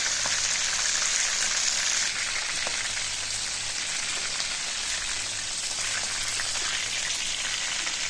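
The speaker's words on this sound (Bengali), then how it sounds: "চিকেনটা হালকা ফ্রাই করলাম" Steady, dense crackling sizzle of chicken pieces frying lightly in oil, continuous and fairly loud throughout with no voices.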